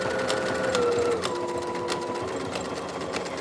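A sewing machine stitches fabric in a steady, fast whirring run with a rhythmic mechanical rattle, close and loud, with no voices over it.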